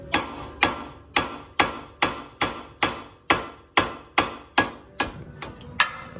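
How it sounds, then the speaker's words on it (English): A hammer strikes the outer tie rod on a Honda Civic to pop it off. About a dozen sharp metallic blows land at a steady, roughly half-second rhythm, loud and close. "Once you get the nut off of the outer tie rod, just hit it right here, and it should pop off."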